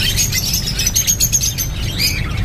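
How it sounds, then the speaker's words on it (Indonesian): Songbirds, including lovebirds, chirping at a bird kiosk, with bright overlapping tweets and squawks close by over a low background rumble, no one talking. "Banyak sih burung kicaunya juga ya."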